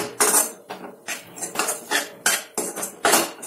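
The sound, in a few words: stirring and sautéing gram flour with capsicum in a pan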